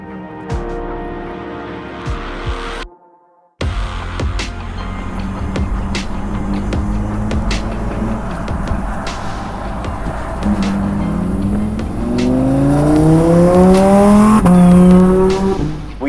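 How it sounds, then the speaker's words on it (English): A Lamborghini Huracan Evo fires up after a short silence, then drives off with a loud, rising engine roar, revving harder and climbing in pitch as it accelerates, with a hint of tire noise near the end. "We are starting up in the Lamborghini Huracan Evo."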